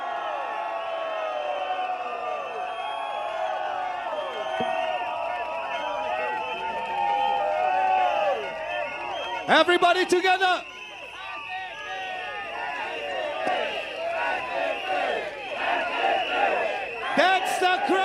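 A big crowd at a nighttime political election rally roars and cheers loudly, with whooping shouts and bursts of noise rising over a speaker's amplified voice that keeps talking through it.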